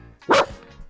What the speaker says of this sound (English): Hey, who are you barking at? Who are you barking at?